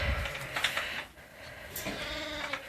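Sheep and newborn lambs bleat close by in a barn after a ewe gives birth while an orphan lamb is being introduced, with several wavering calls overlapping in quick succession.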